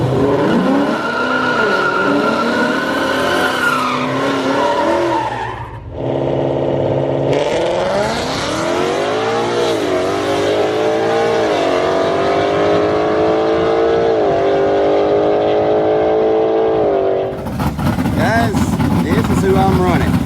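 Street race cars launch and race in a street shootout at a drag strip, with loud, sustained engine roar rising through the gears, tire squeal and a sharp shift in sound near the end.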